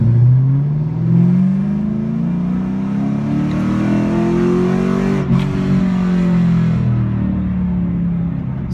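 A heavily modified 2005-2014 Ford Mustang drives past with a loud, deep engine note that rises and falls steadily as it revs, rumbling continuously throughout with no talk.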